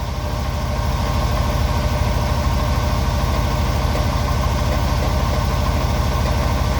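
A car engine with 269,000 miles idles while warming up, a loud, close, steady rumble with a fast even pulse and faint piston slap ticking through it, with no talking.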